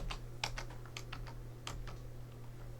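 Quiet computer mouse clicks tap out at an irregular pace, soft and near. They sit over a low steady electrical hum with no talking.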